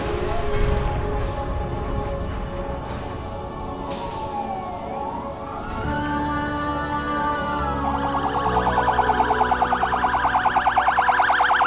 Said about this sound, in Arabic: في ساعة متأخرة من الليل دق جرس الإنذار في أحد مراكز الدفاع المدني